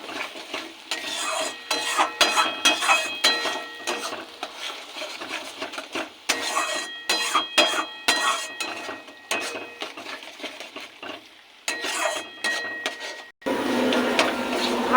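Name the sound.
frying gourd peel paste with turmeric and sugar in a pan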